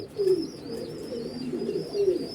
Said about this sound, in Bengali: এটা আমাদের সব খামারের কবুতর